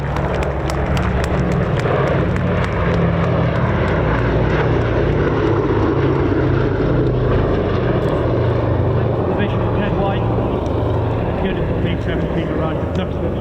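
A Sally B B-17 World War II bomber flies past at an airshow, its broad, steady engine roar filling the scene at close range alongside crowd noise, with a commentator speaking over it.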